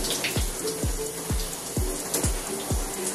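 Water runs and splashes in repeated bursts as real hair beneath a glued-on wig is soaked during a water test, the spray rising and falling in a steady rhythm.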